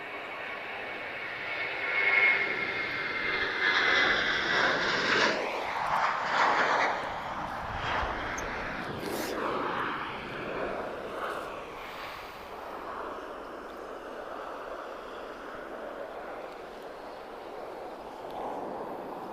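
Turkish Airlines airliner at Lisbon Airport, jet engine whine and roar that swells early then eases into a steady fainter rumble.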